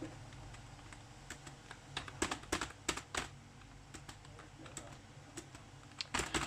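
A computer keyboard is tapped in scattered clusters of sharp key clicks, some quick runs and isolated presses, close up over a steady background hum.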